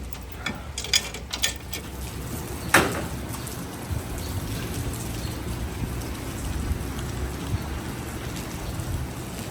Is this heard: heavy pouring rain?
yes